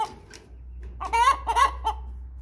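A large 7-pound hen clucks in a coop, a brief cluster of several loud, close calls after a quiet start, with a low hum underneath.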